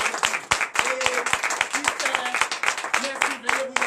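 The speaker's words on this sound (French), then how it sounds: "dont je vous demande d'applaudir très fort" Church congregation clapping loudly at a night deliverance service in Comè, Benin, dense rapid applause filling the room, with voices and singing mixed in under the claps.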